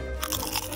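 Salty snack chips being crunched and chewed close up, a dense run of crisp, crackly bites filling the short moment with no talk.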